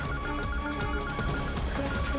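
A phone rings steadily with a continuous electronic tone, dense and close, with no voices heard.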